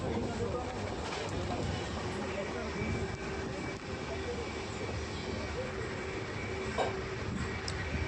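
A moving train rumbles steadily from inside a crowded passenger coach on a journey from Mumbai's Lokmanya Tilak Terminus to Guntakal, a continuous low roar with faint voices in the background.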